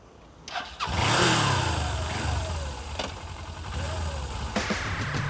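A motorcycle engine fires up close by during a road riding lesson, catching after a short crank, then settling into a steady running note with gentle revs rising and falling.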